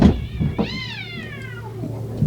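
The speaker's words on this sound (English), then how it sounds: "there's a couple of cats fighting on the roof, going crazy" Cats fighting on a roof, one long drawn-out rising then falling yowl heard clearly against a steady outdoor background, with a few dull knocks around it.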